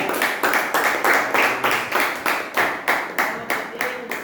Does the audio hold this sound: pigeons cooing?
no